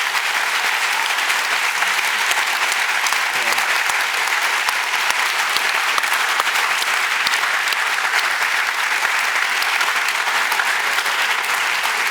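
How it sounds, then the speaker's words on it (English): A large audience at a panel discussion gives sustained, dense applause that stays loud and even throughout, with many hands clapping at once and no speech over it. "you owe these folks a big round of applause"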